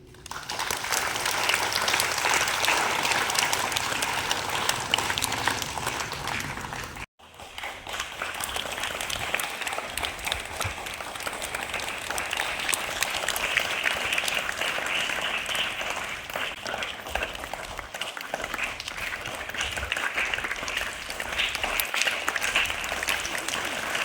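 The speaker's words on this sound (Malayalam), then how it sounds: "അതുകൊണ്ട് എല്ലാവർക്കും ഒരു നല്ല കൈയടി" An audience at a school club inauguration applauds for a long stretch with dense, steady clapping, briefly cut off once and then resuming just as full.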